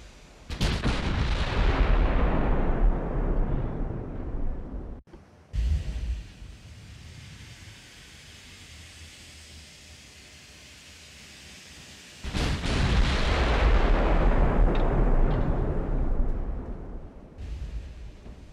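Heavy naval gun salvos from warships in the game Ultimate Admiral: Dreadnoughts, two long booming bursts of big-gun fire with rumbling, decaying tails and a quieter stretch of ambient rumble between them.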